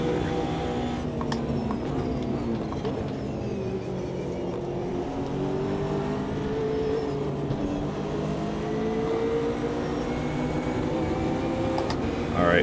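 Race car engines from a McLaren and a Nissan in the racing game Automobilista 2 drone and rise in pitch steadily, a continuous engine note under a speaking voice.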